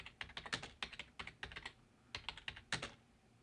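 Fingers type on a computer keyboard, entering a service request for a leaking drinking fountain, with quick clustered keystrokes in bursts and short pauses, close and fairly quiet with no talking.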